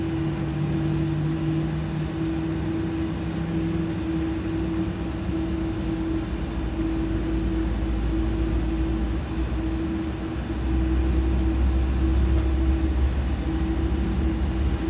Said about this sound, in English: Let's not forget our engine start though.